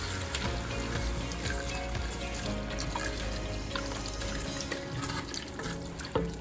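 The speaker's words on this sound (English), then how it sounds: "this is my 4 cups of clam juice. So I'm going to add a little at a time and stir it up" Clam juice is poured into a flour-thickened chowder base in a pot and stirred, giving a steady faint liquid pour and swish with a small clink near the end.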